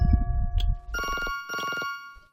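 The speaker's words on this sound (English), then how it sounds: "Uh-oh, the phone's ringing." A telephone rings twice in the video game The Mirror Lied: two clear, evenly spaced electronic ring bursts that follow a low rumbling background, with no talk over them.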